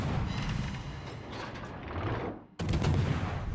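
Naval gunfire from an Akizuki destroyer in a warship video game, a continuous rumbling barrage of booming shots with a brief dip before another heavy blast, loud and dense with no talking.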